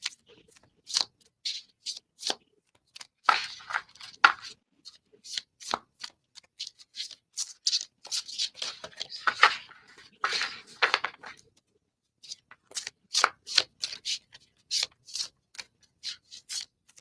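Tarot cards are shuffled by hand in quick riffling bursts, crisp close-up flutters and snaps separated by brief pauses, with no talk over them.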